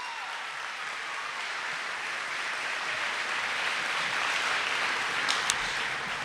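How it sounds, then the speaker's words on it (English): An audience at an 8th grade moving-up ceremony claps for teachers, a steady, even wash of applause from a large crowd lasting several seconds, with a faint whoop near the end. "let's give another big round of applause to those teachers for their accomplishments"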